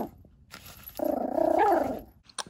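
A dog heard through a played-back video clip gives a drawn-out whining growl lasting about a second, loud and close, framed by brief clicks and quiet.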